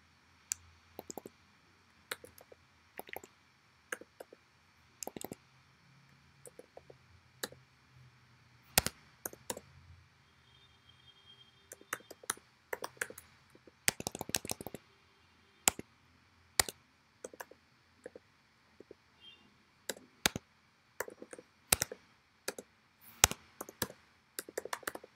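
Computer keyboard typing out an office address in a design app, a quiet run of sharp separate keystroke clicks with uneven gaps and a few brief bursts, close up over a faint steady hum.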